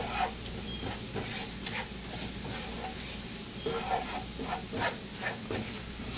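A flour roux for sausage gravy browns in a pan with a steady sizzle and hiss, while a spoon keeps stirring and scraping. The sound is close and continuous, and no one speaks.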